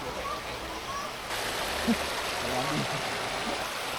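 A stream and waterfall flow beside a riverside restaurant, giving a steady rushing wash of water throughout, with a brief faint knock partway through and no clear talk.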